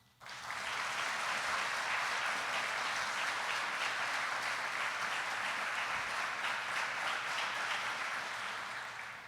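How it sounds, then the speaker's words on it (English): A large crowd at a U.S. Army flight school graduation ceremony gives sustained, dense applause that swells in quickly and holds steady for several seconds before easing slightly at the end. "give a thunderous round of applause for our families and our loved ones"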